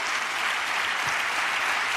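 An audience applauds a politician's remark, a dense, steady wash of clapping from many hands throughout, with no pauses.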